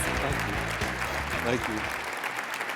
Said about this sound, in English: Just as soon as we stop for the applause.